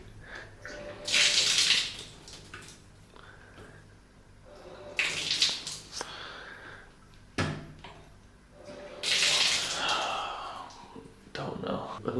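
A shower in a hotel bathroom in Vietnam is switched on and off in three separate bursts of hissing spray, with quieter gaps and faint voice sounds between them.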